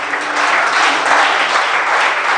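A church congregation applauding during worship, a dense, steady burst of clapping from many hands filling the room, loud and continuous.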